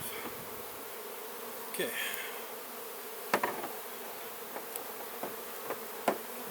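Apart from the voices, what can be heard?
wasp buzzing near beehive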